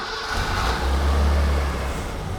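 A BMW E21 323i engine idles steadily with an exhaust leak at a rusted mid-silencer, giving a deep, continuous rumble with a raspy edge that stays close and loud and alone.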